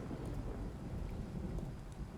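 Rain in the noir video game Blues and Bullets falls as a steady, low rumbling wash with a faint, even patter. It sounds dull and moderately quiet, and nobody speaks.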